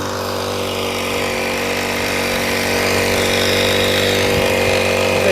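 A Honda GX50 four-stroke engine on a portable sprayer with a Sawayaka pump runs loud and close, revving up steadily with a buzzing, rising drone and no talking.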